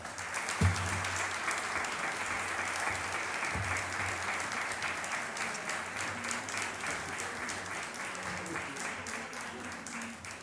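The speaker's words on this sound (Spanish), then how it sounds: "Ruego un gran aplauso para acoger con calor navideño a don Manuel Moreno Téllez" An audience at a Christmas poster presentation applauds warmly, a steady wash of clapping that holds for about ten seconds, with faint low murmuring beneath.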